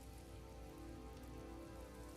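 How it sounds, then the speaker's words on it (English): Steady rain falling outside, a soft continuous patter on surfaces, faint and even throughout with no voices. "Sorry if you guys can hear the rain outside."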